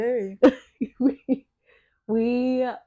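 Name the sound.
throat clearing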